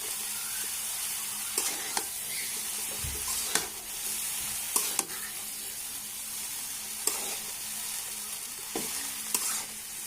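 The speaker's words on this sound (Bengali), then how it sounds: "চাউমিনটা এখন মিক্স করে নেব।" Boiled chow mein noodles stir-fried with egg and chicken in a hot pan, a continuous loud sizzle and hiss broken by repeated sharp scrapes and clanks of the spatula, close up.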